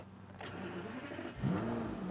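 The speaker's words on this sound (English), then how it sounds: "We're going to go ahead and fire up that 6-liter V12." A 6-liter V12 in a 2006 Aston Martin DB9 Volante cranks and fires, its mid-pitched engine note swelling into a louder rev near the end, heard close from inside the car.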